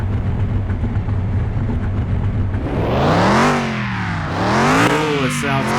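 A junkyard car in Car Mechanic Simulator 2021 hums low and steady, then its engine starts and revs loudly, rising and falling twice in pitch.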